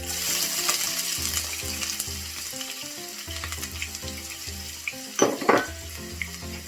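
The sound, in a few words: onions frying in a pan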